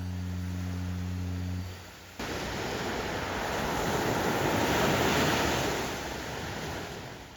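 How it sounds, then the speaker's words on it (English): Ocean surf rolls steadily onto a beach at Cabo San Lucas, Mexico, a loud continuous wash of breaking waves with wind noise on the microphone after a brief low hum at the start. "Here were the waves I was dealing with"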